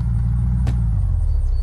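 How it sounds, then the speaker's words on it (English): A muscle-car-style engine from a vehicle in the video game Unturned, a loud, steady low rumble idling close by with a brief rise in the middle, with no voices over it. "Dude, it sounds like a straight up muscle car."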